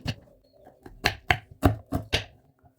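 Knife chops through drumsticks on a board in a village-style kitchen: about seven sharp, close thuds, irregular but fairly evenly spaced, with quiet gaps between.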